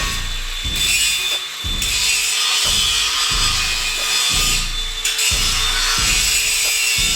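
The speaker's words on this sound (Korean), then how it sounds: "다음 작업으로 시공될 빔을 재단해주고 연마 작업을 진행." Steel H-beam being cut and ground for a duplex structural reinforcement job: a loud, continuous high-pitched abrasive whine over rhythmic low thuds about every half second, close and steady with no talking.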